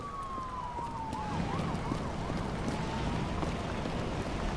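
A police car siren wails in a futuristic noir video game set in New York 2329, a rising and falling electronic tone that sweeps steadily, moderately distant over a low ambient rumble and wind, with no one talking.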